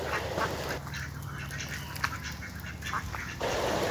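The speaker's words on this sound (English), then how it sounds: "In this video, some ducks are playing and fishing." Several ducks quack steadily on jungle water, the calls near and overlapping over a constant hiss of background ambience, with no talking.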